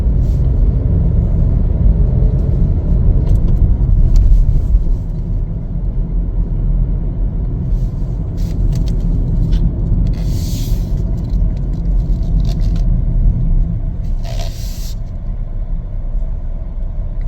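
A 2024 Chevrolet Equinox AWD LS cruises along, giving a steady low road rumble and engine hum heard from inside the cabin, with no talk over it.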